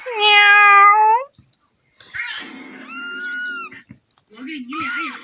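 A cat gives several loud, close meows, the first long and drawn out, followed by shorter rising and wavering calls, with a person's voice also imitating meows in between.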